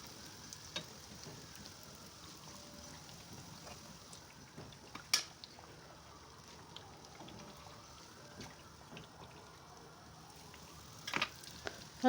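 Dough fries quietly in oil in a pan, a soft low crackle with occasional pops and faint clinks, fairly distant and faint throughout.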